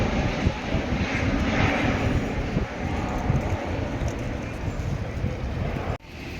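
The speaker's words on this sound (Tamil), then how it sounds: "பெரிய ஃப்ளைட்டு." Large airliner flying low over Hounslow, London, producing a loud continuous roar with wind buffeting, holding steady before dipping slightly near the end.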